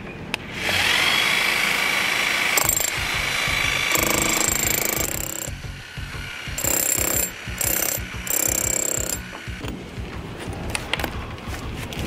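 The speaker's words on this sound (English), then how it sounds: "So I just turned on my jackhammer now so that we can get in there easily." A jackhammer breaks up brickwork during a brick repair, pounding loudly up close in rapid bursts, stopping and starting several times with brief pauses between runs.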